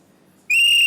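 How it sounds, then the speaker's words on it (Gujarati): A single sharp, high, steady whistle starts abruptly midway and holds loud and clear against a quiet indoor background. "એ સીટીઓ શેની મારે છે?"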